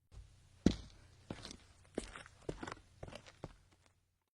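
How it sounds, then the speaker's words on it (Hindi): Soft footsteps fall one after another in an uneven, slow rhythm, each a quiet thud with a light scuff, close but faint in an otherwise still space, about seven or eight steps before fading into silence. "और कभी कभी पैरों की हल्की हल्की आहट सुनाई देती थी।"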